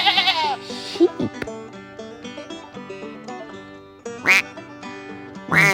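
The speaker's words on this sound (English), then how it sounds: "Duck." Several short duck quacks ring out over a steady musical backing, a bright call near the start and two more loud bursts toward the end, in a children's farm-animal quiz setting.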